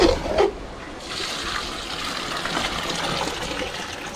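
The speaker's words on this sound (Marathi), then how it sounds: "पाणी टाकलंय" Water gushes and splashes into a cooking pot over rice for a large batch of masale bhat, a steady pouring rush after a short clatter at the start.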